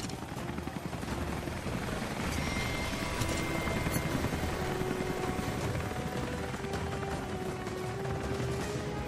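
Helicopter and gunfire in the video game Rise of the Tomb Raider, a dense mechanical roar with rapid crackling bursts of shots layered over a continuous rotor drone, loud and sustained throughout.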